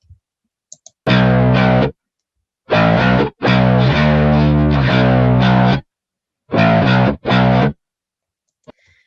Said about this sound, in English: so that's quite a distorted sound